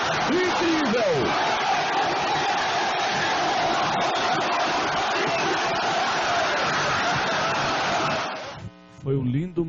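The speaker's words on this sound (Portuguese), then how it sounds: "Ouviu o barulho da torcida do Ceará." A huge stadium crowd of Ceará football fans roars and cheers continuously at a Copa do Brasil 2005 match, loud and dense, before the noise cuts off abruptly near the end.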